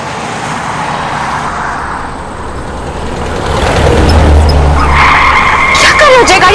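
A car driven recklessly skids loudly, its tires squealing and screeching over a roaring engine and road noise that swell toward the end, close and intense.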